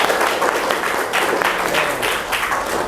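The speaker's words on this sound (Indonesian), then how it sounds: "Oke, tepuk tangan ya semua." A class of students claps hands together in a steady, dense burst of applause-like clapping, loud and close, lasting throughout.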